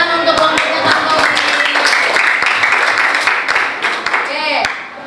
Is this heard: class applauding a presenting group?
yes